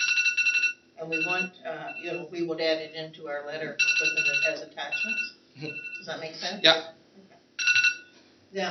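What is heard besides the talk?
mobile phone ringing during a meeting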